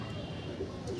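Pigeons coo softly and briefly in a loft. The sound is faint and low under a quiet background hum.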